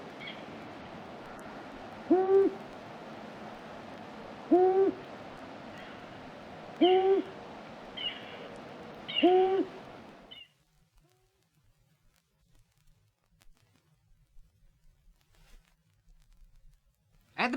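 Long-eared owl giving its late winter moaning song, four drawn-out hoots spaced about two seconds apart, fairly close and clear, before quiet woodland ambience.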